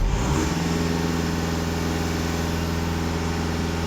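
A VW Tiguan diesel engine idles steadily and close by, a smooth low rumble with a faint brief rev at the very start, then an even, continuous drone throughout.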